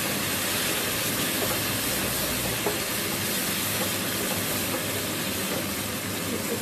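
Peas tipped into fried masala in a pan for dhaba-style aloo matar, giving a steady, loud, broadband sizzle and hiss that holds evenly throughout with no talking.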